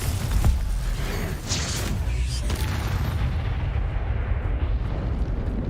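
Rapid barrage of booming spell blasts and fiery explosions in the game Hogwarts Legacy, heavy low rumbles with bursts in the first three seconds, then a dull sustained roar as the noise settles.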